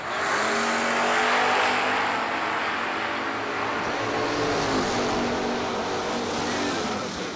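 Drag race cars, including a Camaro, roar at the New Year Nationals, a loud sustained engine howl swelling and holding at close range for several seconds, then easing slightly, with no talk over it.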